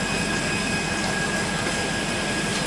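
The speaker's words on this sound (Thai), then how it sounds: "จะได้ยินเสียงเครื่องยนต์ทำงานนะครับ" An AirAsia airliner's engine runs loudly and steadily nearby on the apron, a constant jet roar with a high whine layered over it.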